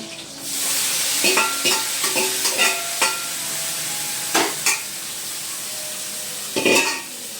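Bottle gourd fries in a hot pan with a steady sizzle, and a spatula stirs it in several distinct scrapes and clinks. The sound is close and there is no talking.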